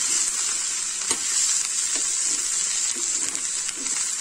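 Ragi roti with greens frying in a pan, giving a steady, close sizzle with soft stirring scrapes throughout and no talking.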